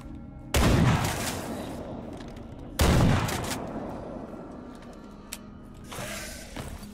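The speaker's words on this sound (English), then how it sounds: "We'll have to use this broken shotgun now if anything comes up." A broken shotgun fires twice in the S.T.A.L.K.E.R. video game, each blast loud and booming with a long rumbling tail, spaced a couple of seconds apart, followed by faint mechanical clicks.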